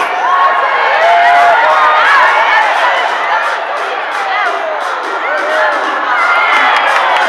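A big crowd cheers and shouts loudly and continuously for dogs racing back to their beds in a knockout race at the Crufts 2013 display, with children's voices and whoops standing out.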